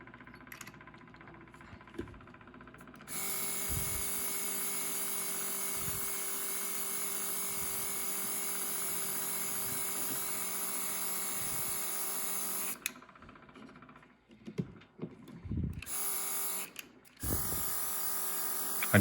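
A cup-turning motor spins a tumbler coated with liquid crystal, making a steady, loud electric whine that starts after about three seconds and cuts off near thirteen. Short bursts of the whine return later, mixed with handling clicks.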